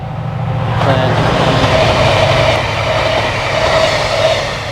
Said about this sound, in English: I'm right next to a train track, which doesn't help when you're trying to record a video